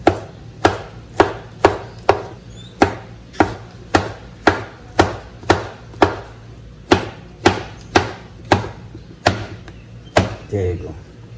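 A knife slices bananas on a cutting board with a run of about seventeen crisp, close chops at a steady, even pace, each cut landing with a short thud.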